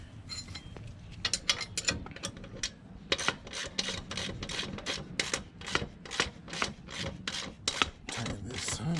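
A ratchet tightening during installation of a new chain on a Grom clone motorcycle, with rapid repeated clicking strokes in quick bursts, close and clear, no speech over it.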